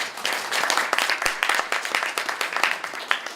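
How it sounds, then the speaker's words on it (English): Audience applause for a group of young ladies at a media awards event: dense, steady clapping from a nearby crowd, loud throughout with sharp individual claps standing out. "let's give them another hand of applause"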